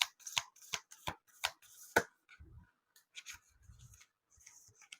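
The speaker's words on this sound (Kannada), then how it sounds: "ಈಗ ಇಲ್ಲಿ ಮೂರ್ ಕಾರ್ಡ್ ಇಡ್ತೀನಿ ಮೂರಲ್ಲಿ ಯಾವ್ದಾದ್ರು ಒಂದನ್ನ ಆಯ್ಕೆ ಮಾಡಿ" Tarot cards are riffled and shuffled in a quick, crisp burst of snaps, followed by softer sliding and tapping as cards are dealt onto a surface; close and fairly quiet with no speech.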